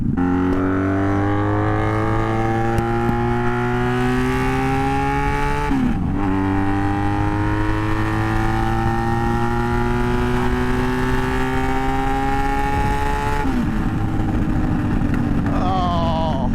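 A Magna motorcycle engine revs high near 10,000 RPM, a loud close whine that climbs steadily, breaks briefly at two gear shifts, then rises again, with no talking.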